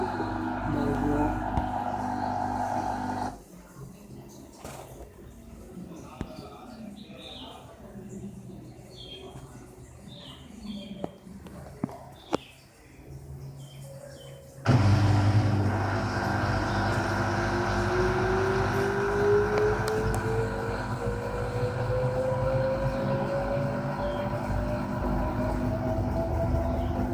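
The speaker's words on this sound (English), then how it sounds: "There is very less sound, and whole machine you can see there is no much vibration." An LG 6 kg fully automatic front-load washing machine runs at low volume, with a soft steady hum that drops away midway, goes quiet with faint clicks, then returns with a rising whine as the drum speeds up.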